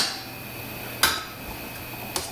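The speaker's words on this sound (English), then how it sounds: "I'm going to try to mash it just a little bit more." Chickpea tomato berbere soup mashed in a pot, a quiet low stirring bed broken by two sharp metallic clanks of the utensil against the pot, the first louder, no talking.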